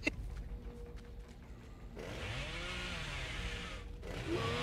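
Bubba's chainsaw in the Dead by Daylight video game, revving into a loud sustained whine with wavering pitch that holds for a couple of seconds, then surges again after a short dip, heard alone over faint game ambience.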